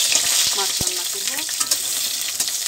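Sun-dried pumpkin lentil dumplings frying in oil hiss with a bright, close sizzle, marked by a few light taps and scrapes of a utensil and no voices.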